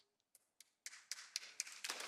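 Soft, scattered hand claps from a small audience in a speaking setting, starting with a couple of isolated taps and building into a faint, quick, uneven patter.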